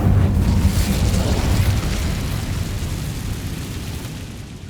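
Incendio fire spell in Hogwarts Legacy bursting out as a loud, rushing whoosh and roar that is strongest at the start and then slowly thins and fades over several seconds, with no voices.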